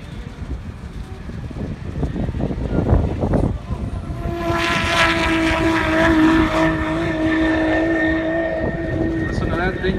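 Twin-turbo Dodge Viper engine roaring loudly at an airstrip race, climbing steadily in pitch as it accelerates past and holding a sustained high whine, with crowd chatter and wind noise at the start.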